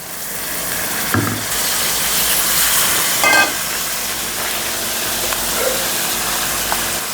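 Washed raw chicken pieces hitting a hot pan with drumsticks and mango pulp, giving a steady frying sizzle with a brief louder burst as they go in, then continuous crackling hiss.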